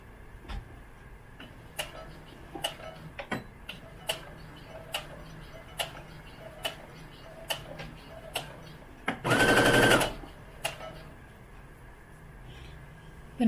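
A sewing machine stitches a small doll-clothes seam, ticking in a steady run of light clicks, then briefly whirring in one loud continuous burst while backstitching, close and alone.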